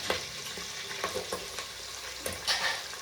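Onions fry in a pan for biryani, sizzling softly while a utensil scrapes and stirs in irregular strokes, close and moderately loud.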